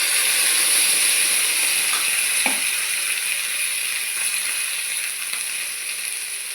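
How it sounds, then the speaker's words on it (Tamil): Water poured into a hot frying pan of sautéed onions for a Tamil vegetable stir-fry (poriyal) gives a broad, steady steaming hiss with a brief clink near the middle, close and fairly loud, gently fading toward the end with no talking. "கொஞ்சம் தண்ணி ஊற்றிடுவோம்."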